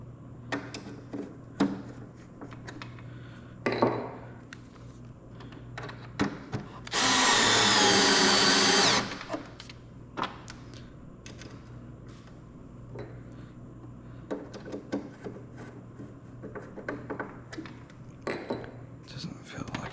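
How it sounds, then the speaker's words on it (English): A battery power drill whines loudly for about two seconds while drilling through a part on a Bandit Models Diamond Back model. Scattered taps and handling clicks come before and after, with quiet talk. "It wasn't all the way through, so I may have to drill."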